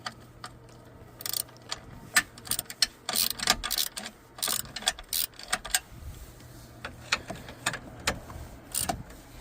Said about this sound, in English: use 10mm socket with ratchet